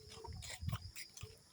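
A pig on a pig farm grunts in a short burst of low, rough snorts, close by, amid faint background noise.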